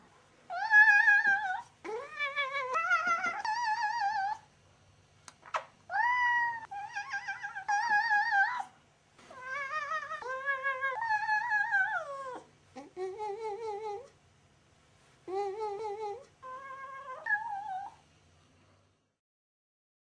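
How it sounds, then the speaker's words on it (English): A cat makes a string of drawn-out, wavering meows that rise and fall like yodeling, close and clear, with short gaps between calls and no voices. "A similar technique is used for a new form of artistic expression: cat yodeling."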